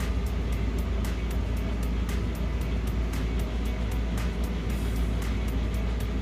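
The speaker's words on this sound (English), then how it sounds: "turn the power back on, turn the gas back on, turn the furnace back on, and then just wait for the action" A newly replaced furnace inducer motor runs steadily with a loud, even hum and whir, plus a faint regular ticking pulse above it, with no talking.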